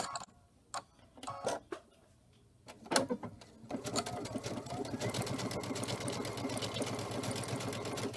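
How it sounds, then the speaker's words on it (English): Sewing machine running a patchwork joining stitch over the seams of a crazy-patch pillow in heavier fabric, starting with a few scattered taps and clicks, then a steady close whirring hum that runs to the end. "I'm gonna stitch over using that patchwork joining stitch"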